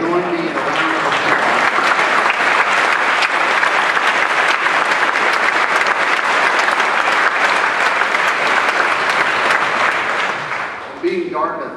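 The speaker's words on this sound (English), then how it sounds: "So join me in a round of applause." Dartmouth investiture audience breaks into a round of applause after a speech: loud, dense, sustained clapping from a large crowd that tapers off near the end, with a voice resuming.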